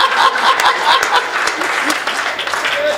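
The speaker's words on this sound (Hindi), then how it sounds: "और तालियों से हम सबको आशीर्वाद देना।" An audience at a Hindi comedy show claps loudly and densely throughout, with a bit of crowd noise mixed in.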